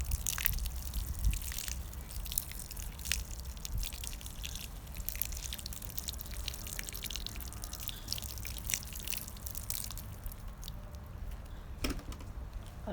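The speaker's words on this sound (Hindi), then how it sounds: "मैं इनको थोड़ा सा पानी दूंगी।" Water drips and trickles onto potted garlic chives, giving quiet, scattered taps and splashes with a few sharper drops throughout, heard close up with no voices.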